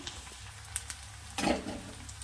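Small pieces of garlic, two to three cloves, sizzle quietly in hot oil alongside browned onion, with a brief louder crackle partway through.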